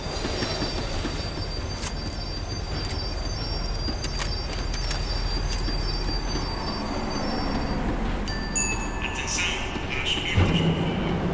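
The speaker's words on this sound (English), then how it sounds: "The tram was slowing down, and I'd only just gotten on board." In Max Payne 3, a tram slows with a steady rumble of wheels on rails and thin, high metallic squeals drifting in and out, ending in a brief louder clunk near the finish.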